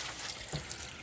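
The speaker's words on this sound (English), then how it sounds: "Open all the taps up on the hot side of the water system." Water running from open taps in a 2018 Sprite Major 4EB caravan, a steady close gush with a brief splashy surge partway through, no talking.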